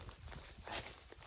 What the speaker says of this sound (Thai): นั่น เสียงเหมือนคนเดิน